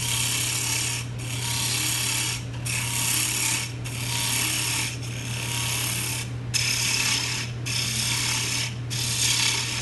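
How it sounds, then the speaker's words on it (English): A wood-turning gouge cuts into a spinning piece of wood on a lathe at a woodworkers' club meeting, giving a steady rasping, scraping whir in repeated passes of roughly a second each, with short gaps between, over a constant low motor hum. "or I can cut it away with a gouge"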